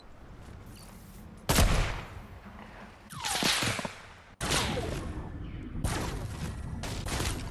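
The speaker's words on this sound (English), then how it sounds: "That dude almost sniped Tommy." Sniper gunfire in Fortnite: sharp, loud shots at irregular intervals, each with a rolling tail, mixed with whooshes and a drawn-out sweep among dense game sounds, and no talking.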